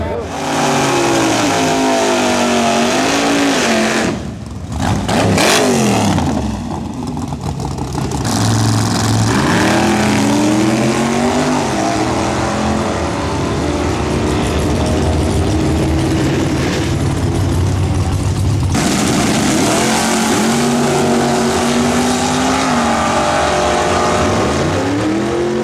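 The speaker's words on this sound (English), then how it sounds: "As 20 plus cars battle it out for a big payout in the open comp class" Open comp class drag race cars at Cherokee Cash Days roar and rev loudly throughout, engines climbing in pitch as they accelerate, with a brief lull before the din resumes and a voice talking over the engine noise.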